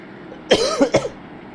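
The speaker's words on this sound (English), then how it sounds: "I do want to apologize, by the way, about my coughing and stuff like that." Two or three quick, close coughs in a short burst, with no speech around them.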